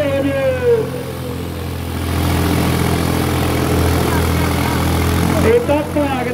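A New Holland or John Deere tractor engine runs steadily at close range, a low continuous drone that holds throughout while people talk over it.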